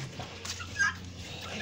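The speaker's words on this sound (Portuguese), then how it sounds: "Aqui tem um galo" A brief, faint rooster call sounds over quiet background noise, short and somewhat distant.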